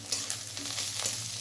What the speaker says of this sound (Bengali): পেঁয়াজগুলো আমি একটু হালকা ভেজে নিচ্ছি।